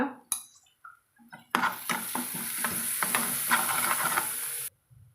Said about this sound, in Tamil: நல்லா எண்ணெய் பிரிஞ்சு அல்வா பதத்துக்கு இதை வறுத்துக்கிறோங்க